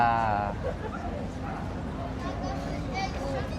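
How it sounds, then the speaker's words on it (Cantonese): Small dogs yip and whimper amid a noisy crowd at a dog market in Yokohama, Japan, with people chattering nearby throughout. "好多狗仔啊！"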